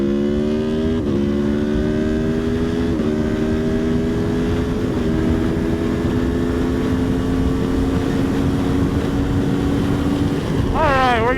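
A 2018 Aprilia Tuono V4 motorcycle pulls hard in third gear, its engine note climbing steadily and loudly under heavy wind noise for about ten seconds before a sharp rev spike at the end.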